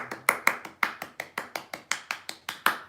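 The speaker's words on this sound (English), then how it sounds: "That's me applauding, okay?" A single person clapping hands in a steady, even rhythm of about fifteen sharp, close claps, alone with no talking.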